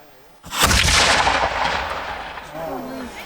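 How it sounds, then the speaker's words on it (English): A Revolutionary War weapon fired by reenactors at Fort Roberdeau: one loud, close blast with a long rumbling decay that fades over nearly three seconds and trails into faint background chatter. "They have loaded the weapon and they are ready to fire."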